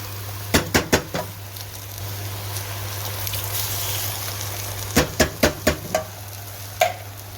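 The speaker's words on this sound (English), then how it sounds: "Just gonna give it a mix." A spoon stirs a one-pot vegetable pasta sauce with crushed tomato and tomato paste in a pot. Clusters of sharp knocks and scrapes come in quick bursts over a steady low hum, with a quiet stretch between the bursts.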